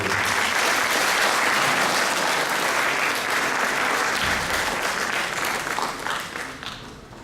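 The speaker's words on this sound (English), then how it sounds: "They deserve a big round of applause from each one of" Sustained applause from an audience at a BSc CSIT college farewell ceremony, dense and loud for several seconds before tapering off toward the end.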